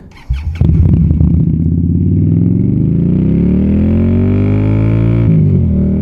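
An Indian Scout Bobber motorcycle fires up with a click and clatter, then revs loud and close into a deep rising roar as it pulls away, the engine note climbing steadily.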